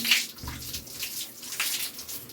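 Water splashes and pours in short uneven bursts while a cat is bathed, close by, with no voices.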